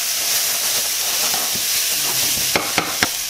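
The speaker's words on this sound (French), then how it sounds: "Tout en bien remuer pour pas que ça accroche. Faut pas que ça noircisse." Onions frying in a pan for a home chicken enchilada recipe, a steady sizzling hiss with three sharp spoon scrapes and knocks against the pan near the end.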